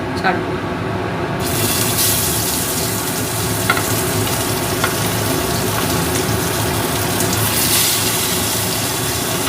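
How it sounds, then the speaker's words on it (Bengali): Small gurjali fish fry in a small wok of oil, giving a continuous dense sizzle and crackle that stays loud and steady throughout, with occasional faint stirring clicks. "দিয়ে আমি মাছগুলো ছাড়বো।"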